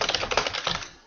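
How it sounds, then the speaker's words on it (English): Rapid keystrokes rattle on a computer keyboard while someone types in a chat window, a close, busy burst of clicks that tapers off near the end. "typing in the chat window."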